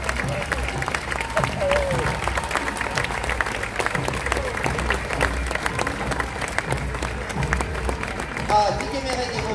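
Steady applause from a large crowd at a Celtic festival parade, sustained throughout with a thick wash of clapping and some voices mixed in.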